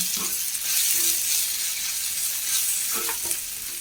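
Crushed chilli frying in hot oil in a pan for liver curry, a steady close sizzle with occasional stirring scrapes.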